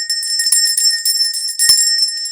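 A bright ringing bell sustains throughout with shimmering high tones, a couple of soft thuds underneath, loud and close with no voices.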